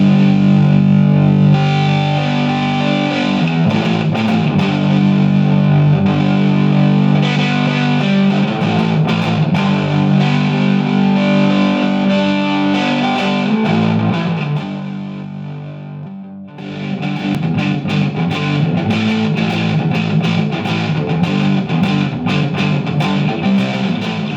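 Electric guitar with both pickups on through an overdriven 1 to 2 watt Emery Sound Microbaby tube amp, strummed chords ringing with a warm, gritty tone, briefly pausing before the playing resumes.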